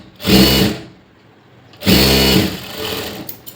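A sewing machine stitches blouse fabric in two short bursts of rapid mechanical whirring, each about half a second long, with a quiet pause between them and soft handling noises after.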